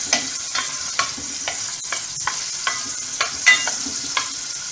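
Three cloves of minced garlic fry in a spoonful of oil in a pan, a steady close sizzle broken by regular scraping strokes of stirring, with no voices.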